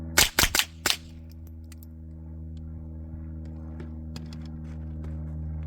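Subsonic .22 rifle shots through a Huxwrx Flow Ti suppressor: four sharp, close cracks in quick succession at the start, then a steady low hum fills the rest with faint ticks.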